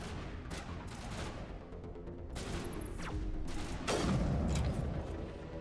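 Gunfire from a sniper in the video game Mass Effect: repeated sharp shots and heavy blasts crack through a dense, continuous battle din, loud and close.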